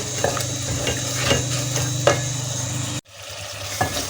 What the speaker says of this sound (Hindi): अब हम इसको अच्छी तरह फ्राई कर लेंगे।